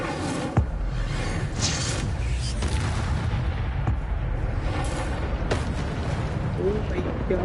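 Incendio fire spell cast in the Hogwarts Legacy video game, a dense roaring whoosh of flame sustained throughout, loud and continuous with booming impacts layered in and a voice talking over it.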